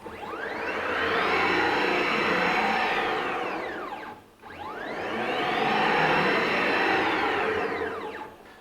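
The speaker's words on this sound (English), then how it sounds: "Now that's running at about 350 inches a minute." A homemade CNC router with stepper motors, traversing at about 350 inches per minute: two long rising-then-falling whines, each accelerating up to a steady high pitch and winding down, with a brief pause between passes.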